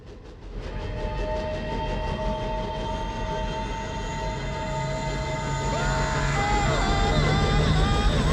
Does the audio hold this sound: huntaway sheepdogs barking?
no